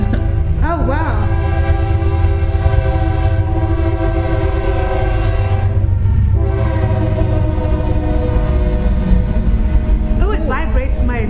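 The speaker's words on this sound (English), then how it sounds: "Yes, here comes the train." Kansas City Southern freight train passing near a museum in DeRidder, Louisiana, its loud horn sounding in long blasts over a continuous heavy rumble of railcars, with voices talking over it.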